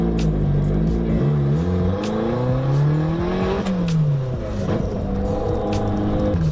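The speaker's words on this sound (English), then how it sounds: "So right now I'm just gonna do some city driving, and I don't wanna slip the clutch excessively" A Mazda Miata with a new six-puck clutch and lightweight flywheel drives through the city, its engine loud and close as it revs up, shifts and pulls again, with no talking.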